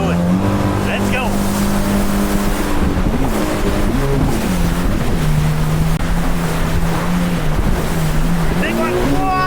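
2024 Yamaha VX Cruiser HO personal watercraft runs at speed on the ocean off Sanibel Island, Florida, its engine a loud, close, shifting drone as it rises and falls over waves, with steady wind and water spray throughout.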